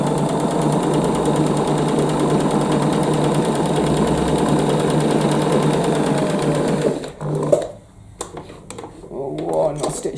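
A sewing machine stitches fabric for small lavender bags, a fast steady mechanical chatter running continuously at close range before stopping, followed by quieter handling noises and a person talking.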